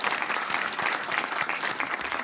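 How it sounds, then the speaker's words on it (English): Applause for a Teacher of the Year award recipient at a university Vice-Chancellor's distinguished awards ceremony, a dense steady clapping from a seated audience that fills the whole short stretch without a break. "Can we give him a round of applause since we gave Fatima a round of applause?"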